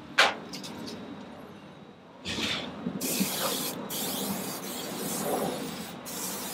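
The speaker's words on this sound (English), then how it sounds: "what you want to do is spray the grill grates down as well" Cleaner sprayed onto the grill grates of a Lone Star Grillz offset smoker: a sharp spritz, then several longer hissing sprays close by, separated by short pauses, with no talking.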